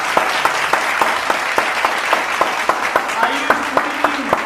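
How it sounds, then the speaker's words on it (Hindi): Audience at a talent show stage event giving loud, sustained applause, with dense clapping throughout and a few sharp, evenly spaced claps standing out above the crowd. "जोरदार तालियां बजती हैं।"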